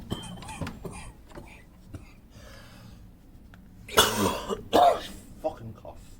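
Two harsh, close coughs in quick succession from a person working on a flywheel and clutch refit, following quieter clunks and shuffling noises.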